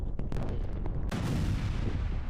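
Explosions and gunfire from a strike in Chechnya, a series of sharp cracks followed by a heavy boom with a rumbling tail.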